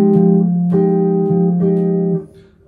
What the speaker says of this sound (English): I'm going to add an upstroke on the and of 4, and that would sound like this.